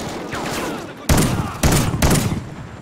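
Gunfire from a weapon in the video game Xenophobia 2, three loud bursts that start suddenly at about one second, one and a half seconds and two seconds, each trailing into a noisy tail, with a softer rumble running before them.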